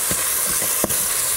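Bacon and onions fry in a pan with a loud, dense sizzle, close up and steady, broken by a few soft scrapes or stirs.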